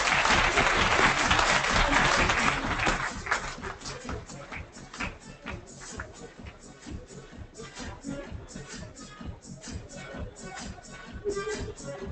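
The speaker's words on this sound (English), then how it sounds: "Give the panel members a round of applause." Dense, sustained applause from a conference audience for panel members at a Pakistan leadership event, loudest at first and then settling into a steady, slightly thinner clapping until the end.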